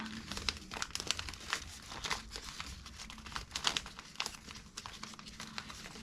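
Paper crinkles and crackles close up in quick, irregular bursts as it is creased into a step fold for an origami sea dragon, the dry rustling continuing steadily throughout.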